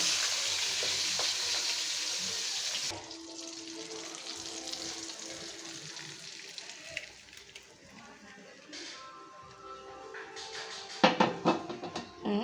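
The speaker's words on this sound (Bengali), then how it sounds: "হয়ে গেল আমার ইলিশ মাছ ভাজা আর সাথে মরিচ ভাজা" Hilsa fish and chillies fry in a pan with an oily sizzle that fades after the first few seconds, followed by quieter kitchen clatter and utensil knocks; a person talks over parts of it.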